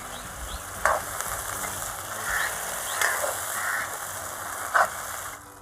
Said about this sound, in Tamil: எல்லாத்தையும் சேர்த்து நல்லா மிக்ஸ் பண்ணி விட்டு நல்லா வதக்குறோங்க.